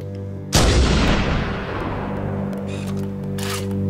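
A single heavy artillery shot fires in Halo: Combat Evolved, a loud, close boom with a long rumbling tail that fades slowly, heard alone.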